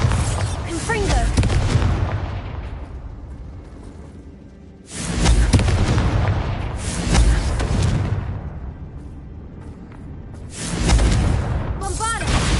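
Explosion spell cast in a video game: three loud booming blasts spaced a few seconds apart, each with a long rumbling tail, over continuous background game sound.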